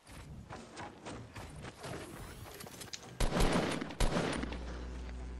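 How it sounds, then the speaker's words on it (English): Rapid Fortnite gunfire during a squads match, a string of sharp shots in quick succession building to louder, close bursts near the end, with heavy low thumps trailing off. "Fuck, I didn't mean to shoot that."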